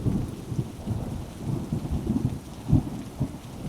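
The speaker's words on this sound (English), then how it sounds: "The breakthrough came on a summer morning when a sudden thunderstorm rolled through." A summer-morning thunderstorm: steady rain patters over a low, rumbling bed of rolling thunder, with one louder crack of thunder swelling near the end, no voices.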